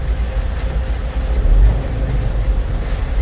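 A Freightliner truck rolls in neutral with a loud, steady low rumble and road noise, a heavy drone that swells briefly in the middle.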